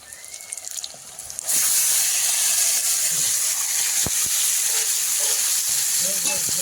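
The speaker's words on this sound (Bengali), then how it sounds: "পেঁয়াজ রসুন লাল লাল করে ভাজা হয়ে গেছে তো এবার মাংসটা দিয়ে দেবো" Spiced chicken meat hits a pan of browned onion and garlic, bursting into a loud, sustained hiss after a quieter start, with occasional clinks and a voice briefly audible over the sizzle.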